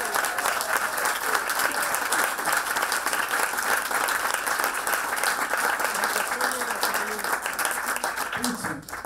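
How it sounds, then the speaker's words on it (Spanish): Dense, continuous audience applause at a concert at Casona de La Florida, many hands clapping steadily and loudly throughout with faint voices mixed in. "nos damos un aplauso"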